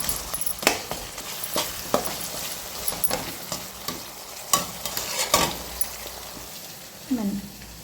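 Oil crackles and hisses in a pan as food fries, broken by sharp metallic stirring knocks and scrapes at irregular intervals, with a faint voice briefly near the end.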